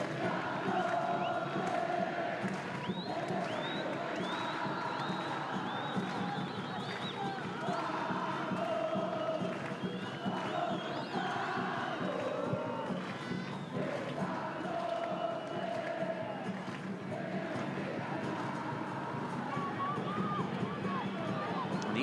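Crowd at a Copa Centroamericana football match between Cartaginés and Jocoro in a Cartago stadium, a steady roar of cheering and chanting that swells now and then, heard continuously with broadcast commentary over it.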